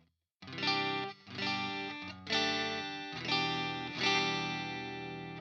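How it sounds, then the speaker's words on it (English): An electric guitar on its neck pickup, split to single coil, plays a sequence of clean, bright chords through an amp sim, each ringing out before the next, close and steady with a slight chorus shimmer. "Let's see what the bridge split sounds, the neck split sounds like."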